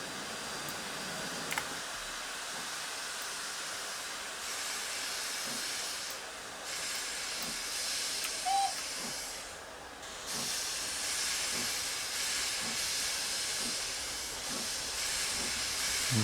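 Steady steam hiss from an SDJR 7F steam locomotive in Train Sim Classic as steam is let through before departure, a broad continuous hiss with faint clicks and small bumps throughout, no talk.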